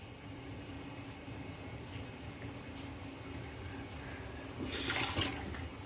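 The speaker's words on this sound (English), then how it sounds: "Let's drain the sink." Water drains from a sink during a wet shave, a steady low rushing wash that runs throughout, with a brief brighter splash near the end.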